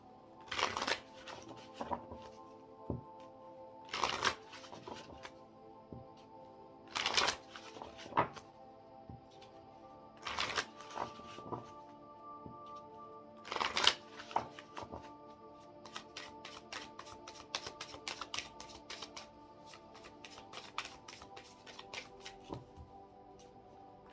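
Tarot cards are shuffled by hand in quick papery bursts that recur every few seconds, with lighter flicks and taps in between, over soft, steady background music.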